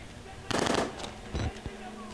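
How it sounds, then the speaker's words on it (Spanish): Video game gunfire in Outlast: Whistleblower, two sharp automatic bursts followed by a single shot, fairly close over a low ambient hum. "¡Hay disparos!"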